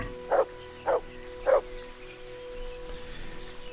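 A dog in Kingdom Come: Deliverance gives three evenly spaced barks at moderate distance, then the medieval outdoor ambience returns quietly with no one speaking.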